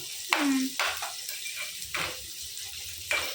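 Onions for chicken curry frying in a pan, a soft sizzle broken by several distinct stirring scrapes spaced about a second apart, with no talk.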